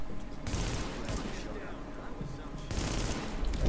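Gunfire from a sniper and other weapons in the video game Tom Clancy's The Division, with dense bursts of shots that swell at the start and near the end, heard up close alongside game effects.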